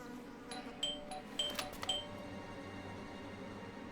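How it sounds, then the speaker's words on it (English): A doorbell chimes in the video game Blues and Bullets, a few bright tones ringing out clearly over a quiet room ambience before fading. "I thought I should use the doorbell so I wouldn't startle you"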